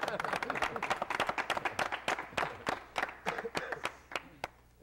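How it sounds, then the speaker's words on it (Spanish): A small studio audience on a Mexican breakfast talk show gives a quick round of applause, sharp separate handclaps close by at an uneven rhythm that thin out and fade toward the end. "Otro aplauso"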